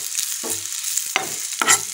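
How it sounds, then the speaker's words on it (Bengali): Onions fry in a pan with a soft steady sizzle as a spoon stirs them, giving three or four short scraping strokes close by, with no talk. "যে দেখো পেঁয়াজ ভাজা হয়ে গেছে"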